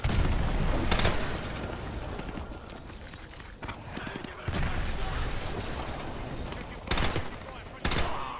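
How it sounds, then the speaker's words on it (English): Gunfire and explosions in a Modern Warfare game: sustained rattling automatic fire punctuated by several loud, sharp booming blasts, with a constant battle din underneath. "Those explosions are going to attract a lot of attention."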